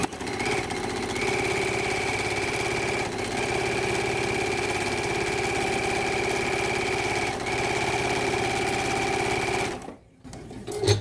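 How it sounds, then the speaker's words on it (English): A sewing machine runs along the side of a quilt block in a steady, close mechanical hum with a fine rapid stitching rattle, pausing briefly twice before stopping near the end. "and then I can sew along the whole side of the block"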